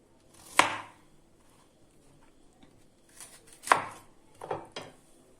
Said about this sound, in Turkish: Bu şekilde karnabaharımızı da küçük parçalara ayırıyoruz